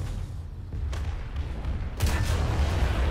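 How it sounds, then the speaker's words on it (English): The Sturmpanzer's 150mm howitzer fires in a tank battle video game, a heavy, thudding boom followed by a rumbling tail, with a couple of fainter distant blasts before it. "Can we hit it with the low velocities gun of the Sturmpanzer?"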